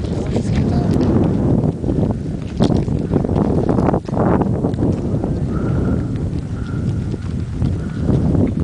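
Horses travelling through the valley at Ischigualasto, San Juan, Argentina, with hooves clip-clopping steadily under strong wind noise and a voice talking nearby.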